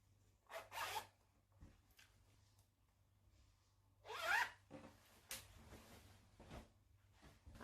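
Zipper on the back of a sewn confirmation jumpsuit, heard as a few quick rasping zips with soft rubbing of fabric in between, close and fairly quiet, with no talking.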